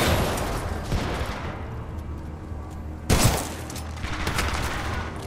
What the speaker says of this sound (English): The Mastiff is a nice gun. It's full auto to boot.